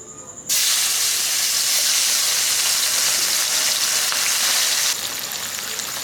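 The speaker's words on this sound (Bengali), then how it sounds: "আমাদের তেল গরম হয়ে গেছে মাছটাকে ভেজে নেবো" Small gang mourola fish dropped into hot mustard oil, giving a sudden loud burst of hissing, sputtering sizzle that holds steady for several seconds, then eases slightly, close up with no voices.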